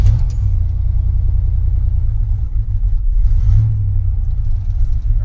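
An old Chevy truck engine idling roughly, a loud continuous low rumble with an uneven pulse, heard up close from inside the cab.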